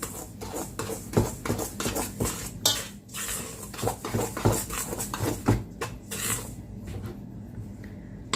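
Flour and fine semolina mixed in a bowl: rhythmic clinking and scraping of a utensil against the bowl, brisk and close, with short pauses between strokes and no speech.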